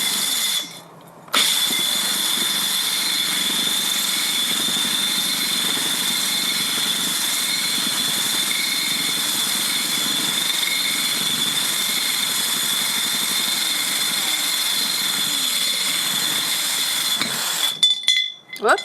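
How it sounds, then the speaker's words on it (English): A power drill bores holes through a large ceramic pot, running as a steady, loud whine almost continuously, with a brief pause near the start and clattering handling noise as it stops at the end. "so this one I'm going to drill 3 holes because the pot's so big."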